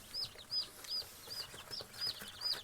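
Newly hatched chicks eating feed, giving high, thin repeated peeps in a quick regular series, fairly faint with soft pecking and rustling underneath.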